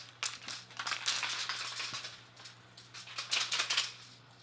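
Duracoat aerosol spray paint hisses in broken bursts onto a Mosin Nagant rifle inside a garage with a fan running, the bright airy spray rising and falling across several short passes over a steady low hum.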